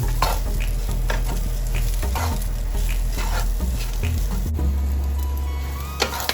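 Onion frying in a pan, with a steady sizzle and repeated scraping strokes of a spoon stirring it, fairly close, and no talking.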